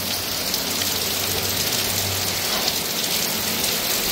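Heavy rain pours steadily in Dehradun, a dense continuous hiss of drops on surfaces with a low hum beneath, close and loud throughout.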